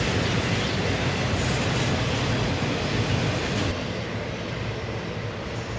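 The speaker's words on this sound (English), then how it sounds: "We've even got a third locomotive running DPU, another squared exhaust" A long CSX freight train rolls steadily past, ET44AH locomotive running as distributed power mid-train, a loud continuous rumble and rail roar with no break, easing slightly near the end.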